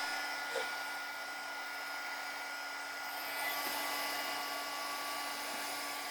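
A heat tool blows hot air to dry thin light modeling paste on a card, giving a steady, fairly faint whirring hum that holds without a break from start to finish.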